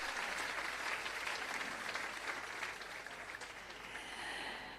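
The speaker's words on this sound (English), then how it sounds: "Thunderous applause." Thunderous audience applause fills a Jamaican civil service long service awards ceremony, a dense, steady wash of many hands clapping that holds at a constant moderate level throughout without any voices on top.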